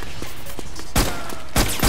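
Suppressing gunfire in the game Metal Gear Solid 4 crackles as rapid distant shots, then two loud close bursts punch through near the end.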